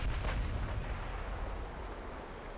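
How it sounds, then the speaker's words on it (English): Heavy naval gunfire from a battleship's B turret in Ultimate Admiral: Dreadnoughts, one loud booming report at the start that rolls into a fading low rumble, no voices. "The B turret's not firing. Oh, there she goes."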